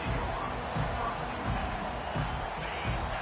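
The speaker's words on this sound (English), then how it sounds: "This crowd trying to show them what it's going to be like all day in this house." Stadium crowd at a football game roars in a steady, dense wash of noise, with cheering swelling slightly at moments and no clear speech on top.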